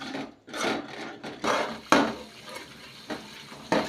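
A spoon stirs tomato sauce in a pan, making repeated scraping strokes in an uneven rhythm, close and fairly loud, with no voices.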